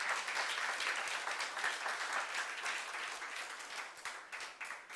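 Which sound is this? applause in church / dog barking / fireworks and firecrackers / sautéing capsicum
applause in church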